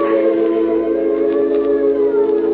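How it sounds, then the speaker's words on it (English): Ambulance siren played as a radio drama sound effect, a loud steady wail held without a break, heard alone with no voices. "Look, George, it's an ambulance."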